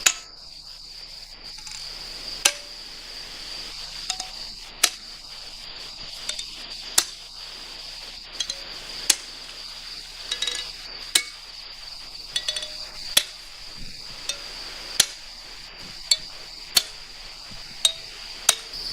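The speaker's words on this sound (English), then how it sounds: "As the wedges are driven deeper, a faint crack forms between them." A hammer drives steel feathers and wedges into stone to split a block. Sharp metallic taps strike at a regular pace, roughly one every second or two, over a constant high insect-like whine, with no voices.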